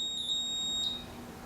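The timer of a Brastemp 84-litre built-in electric oven gives a few short, sharp electronic beeps, close and clear in a quiet room.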